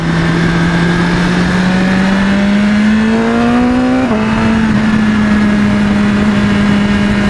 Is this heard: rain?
no